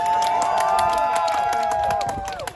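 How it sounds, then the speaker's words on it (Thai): A crowd of supporters cheering and shouting loudly at a Thai gathering, a continuous wash of raised voices with whistles and bright tones that fades slightly toward the end. "ขอเสียงกองเชียร์หมอโอ้หน่อยครับ"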